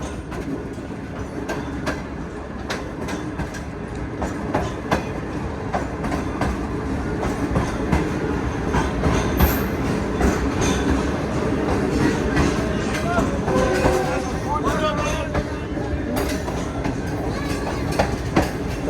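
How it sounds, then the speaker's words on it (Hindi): A train approaches and rolls past Rahmani Nagar railway station, formerly Sita Road, with steady loud rumble and clickety-clack of wagons over the rails throughout, and a busy crowd on the platform. "तो ये रहमानी नगर रेलवे स्टेशन पर ट्रेन अप्रोच बना रही है।"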